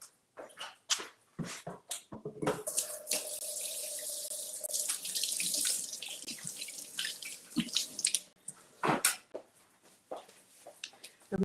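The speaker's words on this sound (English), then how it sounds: "All right, let me wash my hands." A kitchen tap runs steadily for several seconds as hands are washed at the sink, framed by clattering clicks and knocks before and after the flow, with no talking.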